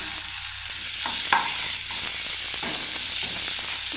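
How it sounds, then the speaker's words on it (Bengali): Boiled beans go into a hot frying pan and are stirred, giving a steady sizzling hiss with scraping and clinking stir noises throughout, fairly close and alone without talk. "এবার আমি এই বিনস সেদ্ধটা দিয়ে দিলাম।"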